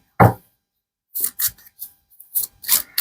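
Tarot cards being shuffled by hand: a sharp riffle at the start, then a series of short, close, papery flicks and slides in an irregular rhythm, with no talking.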